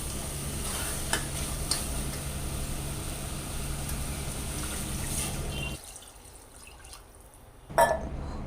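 Continuous wet stirring and sizzling of chicken in a pot for chicken kuzhambu, steady and close, with a brief quieter gap before a sharp clatter near the end.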